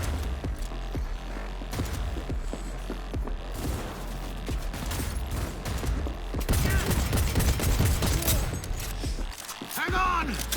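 Gunfire in the Cyberpunk 2077 heist mission comes as repeated bursts of shots over a low rumbling game soundscape, growing denser midway, with voices speaking through it.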